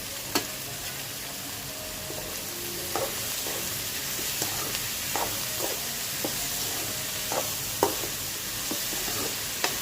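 Ivy gourd and onions fry with salt in a pan, giving a steady close sizzle and hiss with occasional soft scrapes and clicks of stirring, and no voices.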